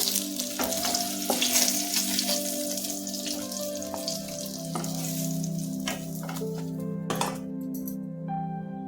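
Eggplant sizzling and frying in a hot pan of oil, a steady close crackle broken by clinks and scrapes of a utensil stirring against the pan, no talk.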